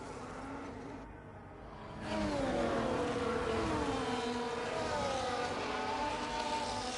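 Racing cars in a racing video game on the formation lap at Jeddah, Saudi Arabia, with engines droning steadily and rising in a loud, continuous roar after a quieter start.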